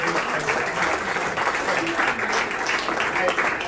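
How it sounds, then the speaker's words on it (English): A crowd at a holiday luncheon for broadcast legends breaks into steady, sustained applause, dense clapping filling the room evenly for several seconds without letup. "Another round of applause, Joe Lomonaco."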